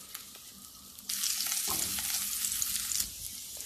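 Finely chopped garlic and a green chilli sizzle in oil in a pan, a loud crackling hiss that starts abruptly after a quiet second and continues with stirring scrapes before easing off near the end.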